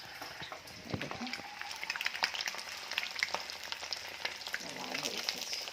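Oil sizzles and crackles steadily in a pan as food fries until reddish, with scattered sharp pops and light stirring scrapes, close and fairly quiet, no voices.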